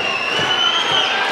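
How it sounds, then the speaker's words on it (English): A crowd at a RUGGEDPro wrestling event cheers loudly and steadily, a dense roar of voices with whoops rising over it throughout. "Listen to this crowd."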